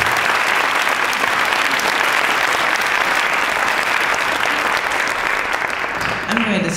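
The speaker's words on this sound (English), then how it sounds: "Let's give a round of applause to our speaker," An audience at an academic talk bursts into dense, loud applause for the speaker and keeps it going steadily before it starts to fade at the very end.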